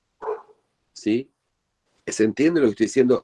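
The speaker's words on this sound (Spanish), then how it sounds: "ese es mi perro ladrando, no se asusten" A dog barks a few short, sharp yips nearby in a home during an online class, spaced apart, followed by a person talking.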